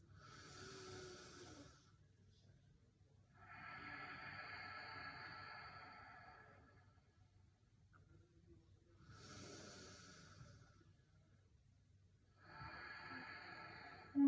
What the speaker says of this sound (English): This time seal your lips and breathe with that same energy out through your nose.